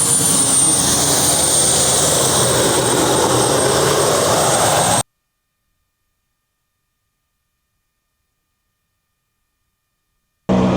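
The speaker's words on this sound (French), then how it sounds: "Cette voiture, et c'était une turbine d'hélicoptère." A car fitted with a helicopter turbine engine roars loudly with a high whine, then cuts to silence before the roar briefly returns.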